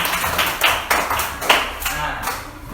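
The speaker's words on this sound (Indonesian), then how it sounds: "Oke, tepuk tangan buat kita semua." A school class claps their hands together in a regular rhythm, with crisp, fairly loud claps repeating about every third of a second.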